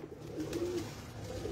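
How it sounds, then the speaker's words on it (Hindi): Teddy pigeons, champion birds kept by a fancier, coo in low, throaty rolling calls close by, a steady murmuring warble that swells midway and continues without talk. "वो मैं चैंपियन कबूतर लेके आया हूँ"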